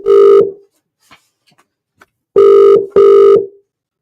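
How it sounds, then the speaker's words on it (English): A phone line rings out while a call is placed to a football player after a 3-1 win: one ringing burst, a pause, then a double burst, each a loud steady electronic tone, with no talk. "Just waiting to see if Josh picks up the phone."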